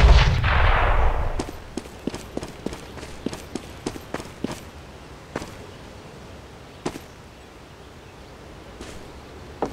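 Sharp pistol shots ring out one after another at a Counter-Strike: Global Offensive pistol range, about a dozen in quick uneven bursts, then a few spaced single shots, loud and close over a low rumble.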